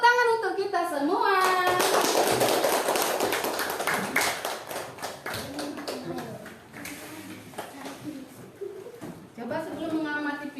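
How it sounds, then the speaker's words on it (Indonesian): A classroom of children clapping together: a loud burst of rapid applause that settles into patterned rhythmic claps, with young voices chanting and talking throughout. "Tepuk tangan untuk kita semua"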